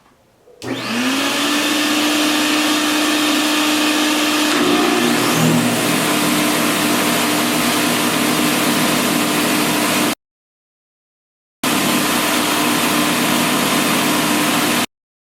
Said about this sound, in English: I'm gonna go over to my sander here and just flatten off an area